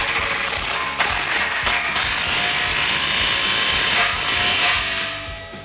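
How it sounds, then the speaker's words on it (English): A ratchet wrench tightens exhaust muffler pipe clamps on a 2015-2017 Mustang GT with a Corsa Xtreme cat-back system, making steady rapid clicking with a hissy air-tool-like wash and a few brief pauses, close and loud. "next we're going to tighten these clamps here for our muffler pipes"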